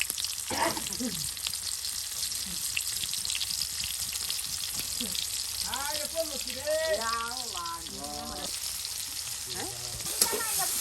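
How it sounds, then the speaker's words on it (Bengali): Onions and chillies sizzle and crackle in hot oil in a pan while a boal fish curry is cooked, a steady, fairly close frying hiss running throughout with a voice talking over it midway. "এই যে দেখুন আপনার পেঁয়াজ মরিচগুলো একদম সুন্দর করে এই যে তেলে কিন্তু ভালো করে আপনার ভেজে নেওয়া হচ্ছে"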